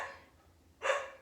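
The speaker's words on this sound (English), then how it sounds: "excuse my dogs" Two short bursts of dog barking, one at the start and a louder one near the end, close by and alone with no talk over them.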